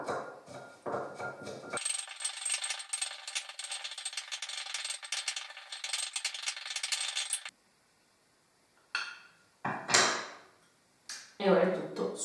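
Salt and water shaken together inside a closed container, a steady rattling slosh that runs for several seconds, close and fairly loud, followed by a few scattered knocks and handling noises.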